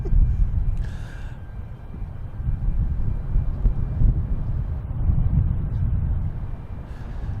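A plane passes near Boston Logan Airport as a steady, broad low roar of jet engine noise held through the whole stretch, with wind buffeting the microphone and no speech.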